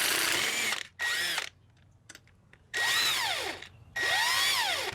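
A power tool works loose a lug nut on a Tesla wheel, running in three loud, close bursts with pitch sweeps that rise and fall, separated by quiet pauses and a few clicks.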